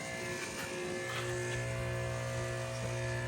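A Ryobi RY142500 2500 PSI electric pressure washer's motor runs with a steady, even electric buzz and hum at a moderate level, unbroken throughout.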